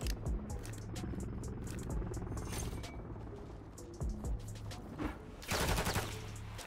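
Dense video-game gunfire from Modern Warfare 3, rapid automatic bursts and scattered shots stacking into a loud, near fusillade that surges again toward the end.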